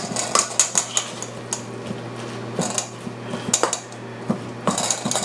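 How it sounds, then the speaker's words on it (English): Zucchini burger batter with flour and egg mixed in a bowl, a series of quick spoon clinks and scrapes against the dish in uneven bursts over a low steady hum. "By the time you continue mixing it, the flour and the egg seem to get incorporated."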